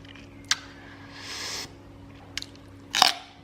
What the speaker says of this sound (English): going in with some celery